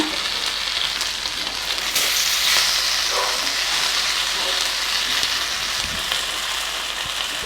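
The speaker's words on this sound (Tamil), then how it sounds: "நம்ம ஷாலோ ஃப்ரை தான் பண்ணுறோம், அதனால் கொஞ்சமாகவே எண்ணெய் சேர்த்தா போதும்." Fish shallow frying in a little oil in a pan, a loud continuous crackling sizzle with small pops and occasional handling sounds, no voices.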